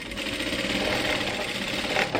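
Close and loud, a sewing machine runs continuously, its rapid steady needle rhythm stitching a narrow folded hem along the edge of a long godet dress skirt.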